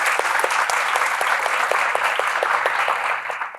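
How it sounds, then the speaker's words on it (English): A crowd claps loudly and steadily for several seconds, the applause tapering slightly at the very end. "Can we please give a round of applause?"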